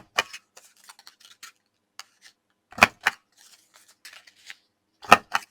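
A corner rounder punches through paper corners in three sharp, loud clacks spaced a few seconds apart, with faint rustling and small handling clicks between them.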